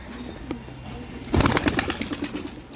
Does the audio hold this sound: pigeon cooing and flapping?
yes